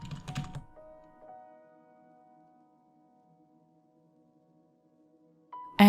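A short burst of rapid keystrokes on a computer keyboard, typing a theme name into a WordPress search bar, stops within the first second, leaving near silence with a faint steady tone and a soft click at the end.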